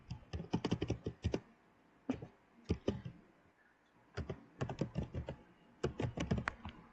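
Someone typing a word on a computer keyboard during an online German lesson, with rapid clusters of close, crisp key clicks separated by short pauses.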